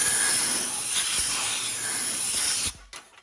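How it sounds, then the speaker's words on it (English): Compressed air blasts over a John Deere Briggs & Stratton Intek V-twin engine during a head gasket job, a loud close hiss held for nearly three seconds before cutting off abruptly, followed by faint clatter. "Compressed air here."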